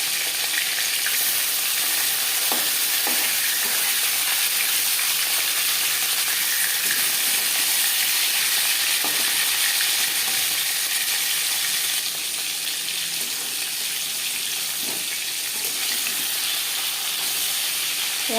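Rui fish pieces frying in hot oil in a pan, a loud, continuous hissing sizzle with scattered pops and crackles, steady for the whole stretch with no voices.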